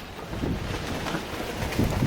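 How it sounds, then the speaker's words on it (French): Gusty wind buffets the microphone outdoors, a loud, rumbling low roar that swells and dips over a couple of seconds with no talking. "juste au moment où je me coiffe, il y a du vent"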